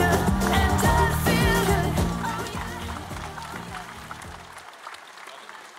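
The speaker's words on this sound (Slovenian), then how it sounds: "Aplavz, odlično!" Applause from a prom audience at a Slovenian gymnasium's graduation ball, loud and dense over music with thumping bass, gradually fading toward the end as the music drops away.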